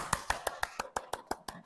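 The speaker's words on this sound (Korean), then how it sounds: "네, 박수." A lecture audience claps in a steady rhythm, about ten sharp, evenly spaced claps over a quiet room.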